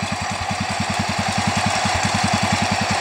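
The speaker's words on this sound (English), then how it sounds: "And there's my C81 just idling away." A C-81 garden tractor engine idles steadily nearby with a fast, even putter, loud and continuous with no voices.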